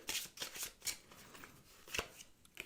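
Cards for the Galactic Era board game are shuffled up close in a quiet room. There are several quick, crisp riffling bursts with short pauses between them.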